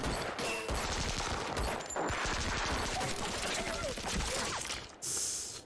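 Gunfire from an episode of The Walking Dead, season 3 episode 10, bursts of rapid shots and crackling fusillade under a loud, busy soundtrack, with a reacting voice mixed in.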